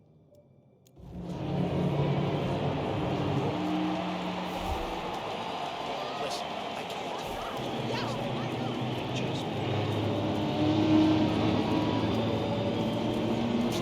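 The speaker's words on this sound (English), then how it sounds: "Look at those beautiful cars. These cars are the future of motorsports." Race cars rev steadily at a Miami motorsport event in the Hitman 2 video game, a dense roaring engine wash that swells and holds throughout, with voices talking over it.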